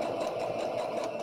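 A sewing machine stitches fabric at a steady pace while approaching a corner, giving a continuous close mechanical whirring buzz with fine rapid rhythmic pulsing.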